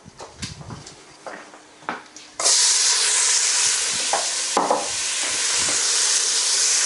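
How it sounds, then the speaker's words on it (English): Onions dropped into hot ghee for a Gujarati-style butterbean and peanut curry, a few clatters and knocks, then a sudden loud, steady sizzle that carries on close and strong, with occasional stirring scrapes. "we're going to go now in with our onions"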